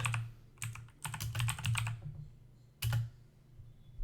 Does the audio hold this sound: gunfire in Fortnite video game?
no